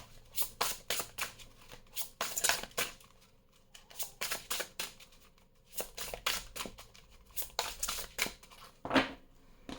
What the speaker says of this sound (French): je vais faire un tirage à 15 cartes